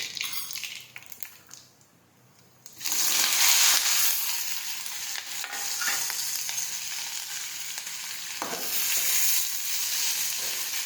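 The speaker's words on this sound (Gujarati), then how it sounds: "હવે આપણે તેમાં રાઈ અને જીરું નાખી દઈશું. હિંગ નાખીશું." Mustard seeds, cumin and asafoetida hit hot oil and erupt into a loud, steady sizzle and crackle after a quieter opening few seconds, with occasional stirring clinks, cooking the tempering for a tindora and chili sambharo.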